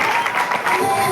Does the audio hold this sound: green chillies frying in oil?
no